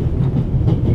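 A train rumbles along the rails in the PC game The Raven: Legacy of a Master Thief, heard as a loud, continuous low rolling clatter with no voices.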